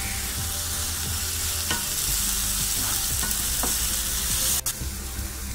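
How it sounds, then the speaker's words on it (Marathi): Onion sautés in a pan over a full gas flame for soya chunks masala fry, giving a loud, continuous close sizzle with occasional stirring scrapes and no talk. "फुल गॅसवरतीच आपण कांदा परतून घेणार आहोत।"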